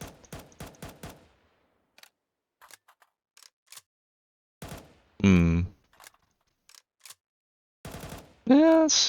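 Galil rifle fire in Counter-Strike 2: quick bursts of rapid shots open and close the stretch, with sparse mechanical clicks and handling sounds between them, loud and close.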